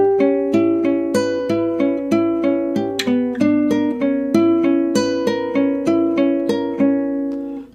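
Guitar plays the first line of the B section of a piece as clear, close single plucked notes in a steady, evenly spaced rhythm, each ringing briefly before the next.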